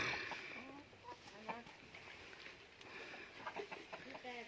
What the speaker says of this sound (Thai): อันนี้ไก่บ้าน ไก่ธรรมชาติ